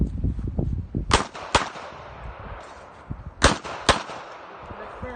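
Handgun shots fired on an outdoor combat course, two sharp reports coming in quick pairs, set against a breezy outdoor background with some low rumbling between the bursts.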